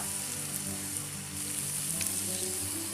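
A ground paste of ginger, garlic, cumin, dried red chilli and turmeric fries in a pan with a steady, close sizzle and faint stirring, continuous throughout with no talking.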